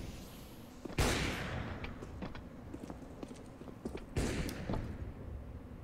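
AK-47 fire in CS:GO: two sharp, loud reports about three seconds apart, with lighter clicks and scattered small impacts between them.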